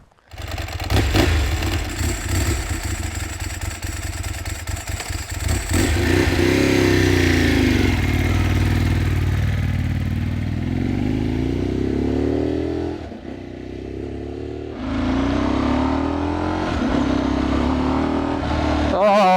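A rebuilt Ducati 999s motorcycle, previously wrecked and written off, fires up and revs loudly and close by, its engine note rising and falling through repeated throttle blips and settling into a steady idle between them.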